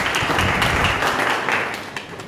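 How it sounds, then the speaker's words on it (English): Audience applause at a short speaking session at an author club in Malaysia, a dense wash of many hands clapping steadily throughout, fairly close and loud, with no talking. "Wow, give a big hand applause to yourself."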